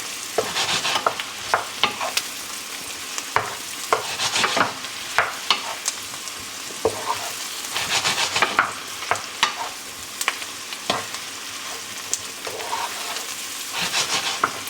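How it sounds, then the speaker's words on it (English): Mushrooms sauté in a pan for a Marsala mushroom cream spinach pasta, with a steady sizzle broken by frequent sharp clacks and scrapes of stirring, close and moderately loud, with no talking. "And just saute it down"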